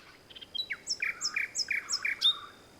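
Bright, clear birdsong with repeated whistled phrases: rising notes and short trills in a steady rhythm, close and alone against quiet background hiss.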